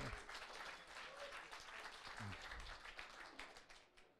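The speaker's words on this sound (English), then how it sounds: "please give them a warm applause because they are also our sponsors" An audience at a live-streamed crypto meetup applauding their sponsors: dense, continuous clapping from a crowd, fairly close and even throughout, tapering slightly at the end.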